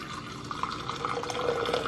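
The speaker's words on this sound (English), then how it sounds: "And then I just like to pour it in a thermos," A drink made in a coffee-style press is poured into a thermos, a steady close liquid stream that runs for about two seconds.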